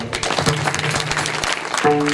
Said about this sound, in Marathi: आपल्या गावामध्ये कोणी मिलिटरीवाला असेल त्यांच्या आई वडिलांसाठी जोरदार टाळी वाजवा